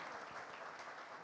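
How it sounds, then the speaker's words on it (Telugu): Applause from an audience at a Telugu movie pre-release event, a dense, steady wash of clapping filling the whole short moment without a break. "Every one has to clap for her."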